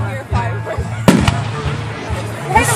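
Fireworks at the 2016 Westfield show burst loudly, with one sharp close bang and several thuds and crackles around it while a crowd chatters and people talk nearby.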